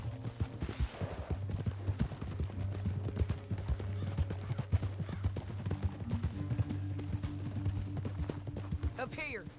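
Horse hooves clip-clop at a steady walking pace in the video game Red Dead Redemption 2, under continuous in-game music and low ambient rumble, with a voice speaking briefly over it.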